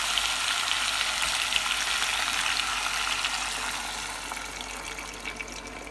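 Sweet potato with sugar roasts in a pan, giving a dense, even frying hiss that stays loud and steady throughout before easing slightly toward the end.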